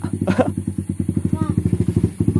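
A motorcycle engine putters loudly and close by with a steady, rapid thumping beat, arriving in a remote village in southern Garut; a voice briefly speaks over it.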